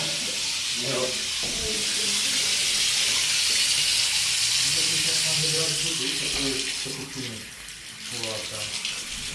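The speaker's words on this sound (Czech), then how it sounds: "Jo, už to žblunká." A clogged bathtub drain gurgles and bubbles as water runs into it, a continuous hissing rush of flowing water with rippling gurgles beneath, close and steady before easing slightly near the end.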